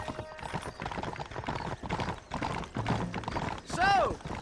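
Horse hooves clip-clop in a western video game as riders set off together, the rhythmic steps running steadily under game music and spoken dialogue, with a brief whinny-like call near the end.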